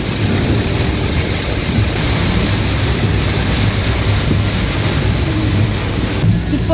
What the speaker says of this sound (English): Rain, I feel it on my fingertips.